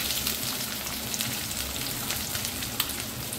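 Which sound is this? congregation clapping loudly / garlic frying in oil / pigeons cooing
garlic frying in oil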